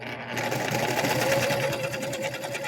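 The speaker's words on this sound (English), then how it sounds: "This thing's sewing pretty nice." A vintage sewing machine fitted with a custom lathe-made bobbin runs steadily up close, giving a continuous fast mechanical whir and rattle of stitching throughout.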